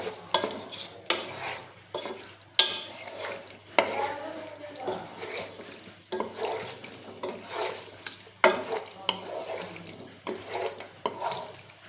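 Chicken kadai with tomato sauce stirred in a pan, wet sizzling scrapes and slaps coming in an uneven rhythm of strokes, close and clear, with no talking.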